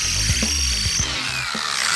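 A power drill bores holes through a car's heat shield during harness protection work on an LS-swapped Malibu, with drill bits in need of sharpening; close, loud, continuous whirring with several changes in load as the bit bites into the metal.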